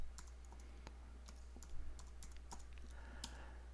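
Password being entered on a computer keyboard: a quick, irregular run of light key clicks close by, faint and alone against a steady low hum, with no talking.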